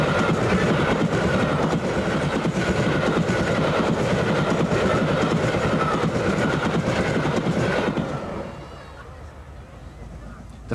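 Mallard, a streamlined steam locomotive, passes on the Hull to Selby main line at Howden with a loud, steady rolling rumble and clatter of wheels that fades sharply near the end, under a narrator's voice.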